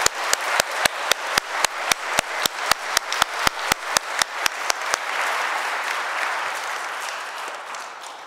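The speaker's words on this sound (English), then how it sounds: "Let's give them a shout out and a round of applause" Sharp, evenly spaced hand claps ring out in a rhythmic series at a Christmas concert, then give way to a broad, sustained wash of audience applause that slowly fades.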